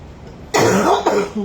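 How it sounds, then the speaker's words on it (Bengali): A person suffering from a lingering week-long cough lets out a harsh, loud cough up close, followed by two shorter coughs, with no talking around it. "আমার খুব কাশি"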